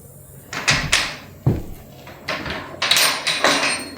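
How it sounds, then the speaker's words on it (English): A screen door on a DIY chicken coop swings on its hinges, with a series of creaks and knocks as it opens and closes several times, fairly close and moderately loud. "And this one squeaks worse than the others."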